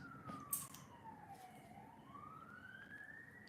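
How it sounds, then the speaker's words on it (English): A distant emergency siren wails faintly, its pitch sliding down and then rising again in a slow sweep over quiet background noise. "Sirens, can you hear them?"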